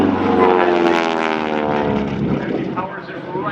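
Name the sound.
SNJ-6 aerobatic airplane engine rumble during dive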